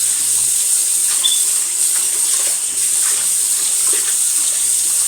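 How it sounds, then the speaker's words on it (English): Tap water running steadily into a sink being rinsed out after washing with soap and bleach, a continuous close hiss and splash with small clatters of handling underneath. "So I'm washing the sink out, washing the pipe off the sink out."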